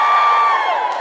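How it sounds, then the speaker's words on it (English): A live podcast audience at a comedy feminist show cheers and whoops together, a loud, dense swell of voices that holds steady for about a second. "Give us a cheer if you listen to The Guilty Feminist."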